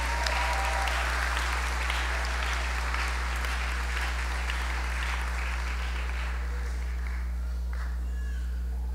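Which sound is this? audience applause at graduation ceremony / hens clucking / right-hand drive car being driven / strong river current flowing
audience applause at graduation ceremony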